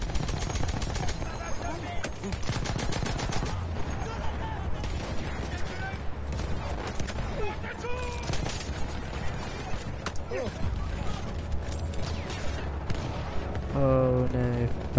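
Rapid machine gun fire in the Battlefield 1 video game rattles in fast bursts mixed with scattered gunshots and battle noise, loud and continuous, with a player's voice talking over it.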